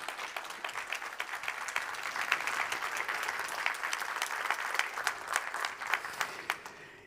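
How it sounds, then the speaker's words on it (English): An audience at the WKO GreenTech Days 2022 conference stage applauds, a steady, moderately distant patter of many hands lasting several seconds without talk. "A big applause."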